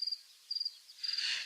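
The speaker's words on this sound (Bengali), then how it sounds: "কচুবনে ঝিঝি ডাকছে।" Crickets chirping at night in arum bushes, a faint, high trill in short repeated pulses that swells into a longer chirp near the end, with no other sound around it.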